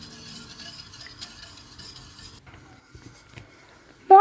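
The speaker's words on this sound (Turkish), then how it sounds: "Kaynayana kadar karıştıracağım." A spoon quietly scrapes and stirs milk pudding (muhallebi) in a pot on the stove, a soft, faint, continuous swishing ending in a brief sharp clink.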